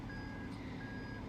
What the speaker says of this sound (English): there's construction traffic and it's annoying